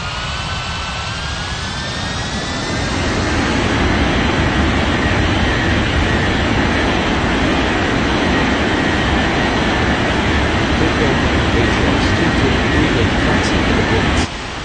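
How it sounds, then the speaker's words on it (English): A Ryanair jet airliner in an air traffic control video game roars steadily as it takes off, a loud broad engine rumble with a rising whine that builds after a couple of seconds and holds. "Ryanair 5187 cleared for takeoff runway 17 left"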